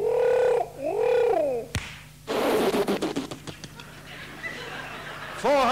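A man vocally imitates a dove's call with warbling, cooing glides, broken by a sharp knock and a stretch of chuckling and audience laughter before the cooing imitation returns.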